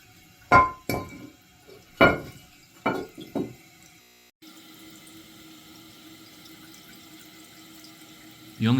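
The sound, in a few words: toilet running water from a faulty flapper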